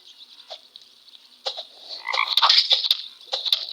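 Frog croaks from a video game enemy, a series of short watery croaks and chirps, some close and loud, repeating irregularly with brief gaps and no talking.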